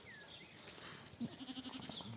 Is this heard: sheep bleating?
yes